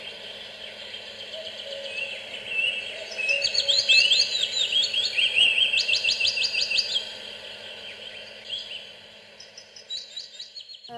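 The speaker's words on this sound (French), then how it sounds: "on va pouvoir entendre de bruit des oiseaux ou alors la radio selon les préférences que nous avons" Recorded birdsong plays from a Philips Wake Up Light alarm clock: bright, repeated chirps and trills rise over a faint steady hum, swelling in the middle and then thinning to sparse tweets.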